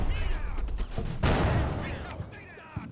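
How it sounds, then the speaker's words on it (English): Enemy mortar and gun fire in the Combat Mission: Fortress Italy WW2 battle game thump and crackle in repeated blasts, one heavy explosion standing out midway, under a man's ongoing speech. "Hell of a time to start getting mortar shots"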